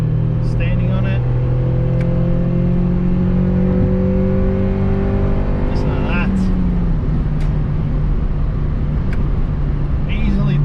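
Honda Civic EK4 hatchback with a B16A2 engine pulling hard from third gear, the engine note climbing steadily in pitch, dropping at a gear change and climbing again, heard loud from inside the cabin while someone talks briefly.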